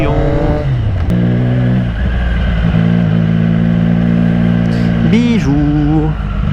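A Triumph Street Triple motorcycle threads through city traffic, its engine droning loud and steady up close, with a brief rev near the end and a rider talking over it.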